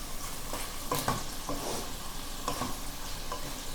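Tofu pieces fry in oil in a pan with a steady sizzle throughout, while a utensil stirs them in a few brief, close scraping strokes at irregular moments.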